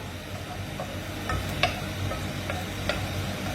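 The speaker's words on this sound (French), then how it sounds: "on fait cuire dorer l'oignon et je mettrai vite les fèves" An onion fries and browns in a pan with a steady, even sizzle throughout, broken by a few faint utensil clicks, close by with no talking.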